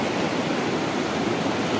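Fast river water rushes through an opened gate on the Sindh River in Pakistan, a loud, dense, continuous roar like a waterfall that never lets up.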